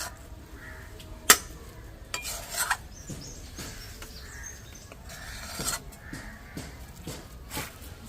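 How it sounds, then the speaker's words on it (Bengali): A spatula scrapes a dried-down carrot sandesh mixture from a wok onto a greased plate: intermittent scratchy scrapes and light metallic clinks, close and fairly quiet, with no voices. "কড়াই থেকে তুলে নিচ্ছি থালাতে"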